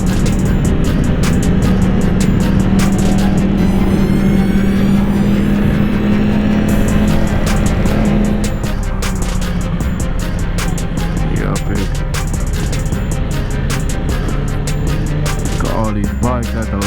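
Crowd of over 100 motorcycles on a group charity ride in California, a loud dense rumble of engines close by with a sustained droning rev, changing pitch as bikes throttle and pass, wind buffeting throughout and a voice talking over it.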